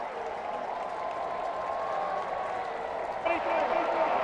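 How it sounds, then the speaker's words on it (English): A large college football stadium crowd at a Marshall versus Southern Miss game roars and applauds in a continuous distant swell that lifts near the end, under a play-by-play announcer's voice. "The crowd's ready to raucously celebrate."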